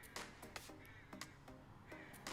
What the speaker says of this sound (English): We have some crow excitement happening out here in rural West Marin.